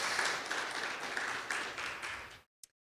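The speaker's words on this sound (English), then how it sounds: "Let's give them a round of applause," Audience applause at a guide dog school graduation ceremony, a sustained crowd of clapping hands that stops abruptly, followed by one brief tap in the silence.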